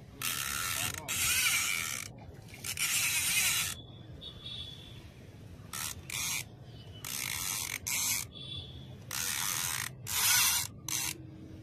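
A fishing reel lets out line in repeated bursts as a fish pulls against it. The ratchet gives sharp, buzzing clicks in short runs of about a second each, separated by brief gaps over a quiet outdoor background.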